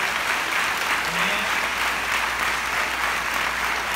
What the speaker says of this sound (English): Can we give a round of applause for our brother?